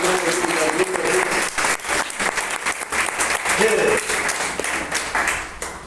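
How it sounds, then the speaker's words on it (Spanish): A church congregation gives loud applause, a dense, continuous clapping that stays steady throughout, with music and voices faintly mixed beneath. "Denle un aplauso fuerte a la Rey de Reyes"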